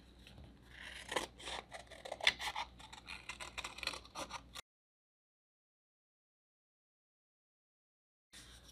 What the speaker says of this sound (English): So what I'm going to do is cut inside the circle a little bit.